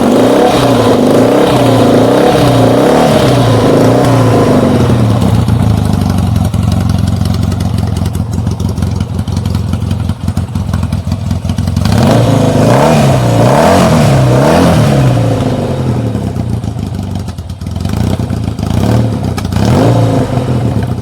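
A Yamaha XS650 motorcycle fitted with new carburetor manifolds and air pods revs hard and loud nearby, its throttle rising and falling in repeated bursts with a lumpy idle in between.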